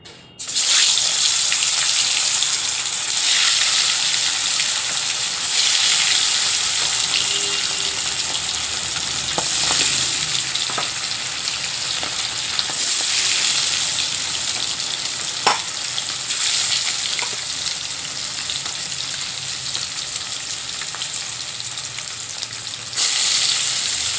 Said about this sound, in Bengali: তেল খুব ভালো করে গরম করে নেব মাছ ভাজার জন্য